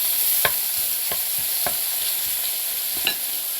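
Bacon frying in a pan, a constant bright sizzle and crackle with occasional soft clicks or scrapes of a utensil, close and steady, no voices.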